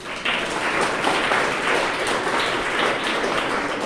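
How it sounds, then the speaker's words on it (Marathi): An audience claps together for teachers at a school gathering: a dense, steady wash of many hands that starts abruptly and holds at an even loudness for the whole stretch, with no voices on top. "सगळ्यांनी एकदा आपण शिक्षकांसाठी टाळ्या वाजवू"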